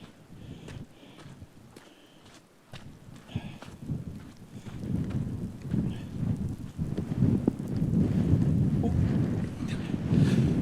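Wind buffets the microphone while rain rushes, building from a quieter start into a steady, heavy roar.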